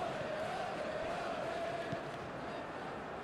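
Football stadium crowd at a 2. Bundesliga match between SV Darmstadt 98 and FC Schalke 04, a broad steady roar of cheering from thousands of fans that holds at an even level throughout.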